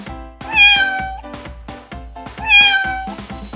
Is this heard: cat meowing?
yes